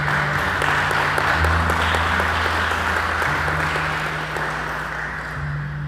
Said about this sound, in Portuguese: aplauda com toda a força